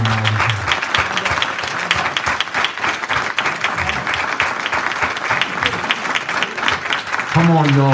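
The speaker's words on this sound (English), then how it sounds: "can you please clap your hands in honor Almighty God?" Mourners at a funeral service clap their hands together in a steady, continuous rhythm, with a voice heard speaking over the clapping at the start and end.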